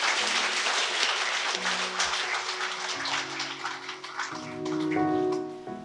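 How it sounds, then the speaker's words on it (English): An audience at a primary school program launch breaks into steady, dense applause, sustained for several seconds, as tonal music notes enter near the end. "a round of applause for the Honorable Minister of Education"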